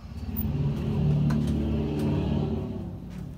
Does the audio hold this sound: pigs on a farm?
no